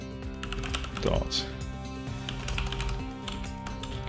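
Computer keyboard keys clack in quick irregular bursts close by while someone talks over the typing.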